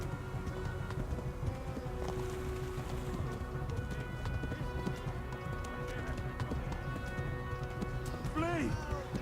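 Rapid hoofbeats of galloping horses drum steadily beneath loud game noise and chatter in the video game Kingdom Come: Deliverance, with a brief rising squeal near the end.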